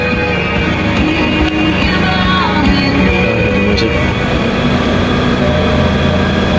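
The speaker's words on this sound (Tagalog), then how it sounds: "Yan, umaandar na po yung makina." A Mitsubishi Galant car engine with a faulty RPM gauge runs close by, loud and steady, a constant low rumble with a droning hum that holds without a break.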